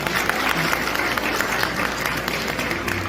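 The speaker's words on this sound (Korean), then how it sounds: "여러분 박수 부탁드립니다." Guests at a wedding ceremony break into steady, dense applause that fills the room evenly for a few seconds.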